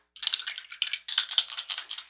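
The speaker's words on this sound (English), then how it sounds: "Rolling the dice." Dice rolled and shaken, a dense run of bright clattering clicks in two bursts separated by a brief pause, close and clear against silence.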